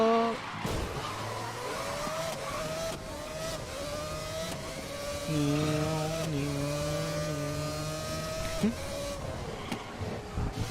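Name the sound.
voice imitating a car engine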